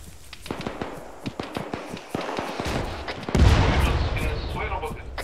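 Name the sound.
explosions going off nearby in the video game ARMA 3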